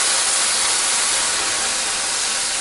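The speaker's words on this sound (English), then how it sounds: "So I'm going to add in some of that mushroom broth." Mushroom broth poured into risotto cooking in a pan, a loud steady steam-like hiss and sizzle filling the whole stretch without a break.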